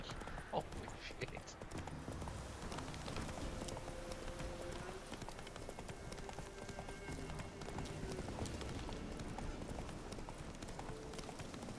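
A horse's hooves gallop in a quick, continuous clip-clop across Skellige in the video game The Witcher 3. The hoofbeats are quiet and sit under a voice talking.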